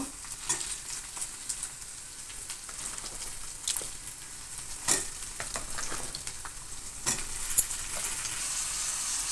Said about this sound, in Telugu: ఇప్పుడు ఒకసారి అంతా బాగా కలిపేసేసుకొని దీంట్లో వంకాయలు యాడ్ చేసేసుకుందాము.